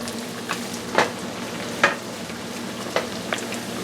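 Mackerel croquette patties fry in a pan with a steady close sizzle, marked by a handful of sharp spatters and light utensil clicks, and no talking.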